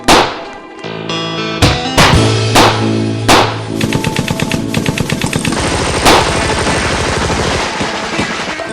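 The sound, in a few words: dramatized gunfire, soldiers firing at bandits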